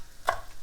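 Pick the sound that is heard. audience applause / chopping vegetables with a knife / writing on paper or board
chopping vegetables with a knife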